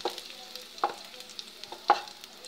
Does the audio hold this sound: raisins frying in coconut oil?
yes